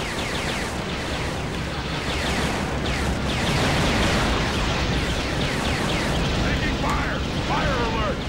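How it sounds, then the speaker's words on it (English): Bombs exploding in the Star Wars Starfighter video game during holo training, a continuous loud roar of blasts and rumbling detonations under laser and engine effects, with a player's voice talking over it. "so let's bomb them out of existence"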